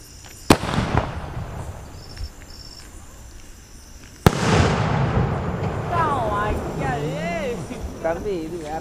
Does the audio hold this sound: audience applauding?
no